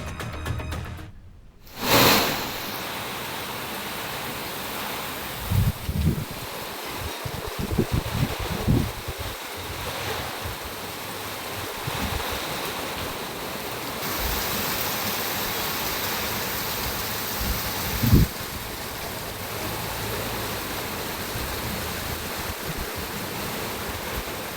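Heavy wind and rain in a mountain ghat on a potholed, waterlogged highway, a steady broadband roar with gusting surges and a few brief bumps, continuous throughout.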